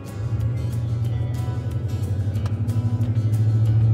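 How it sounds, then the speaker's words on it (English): A car drives slowly around a small town, its engine giving a steady low rumble up close with a faint rising hum. "We're driving around in circles."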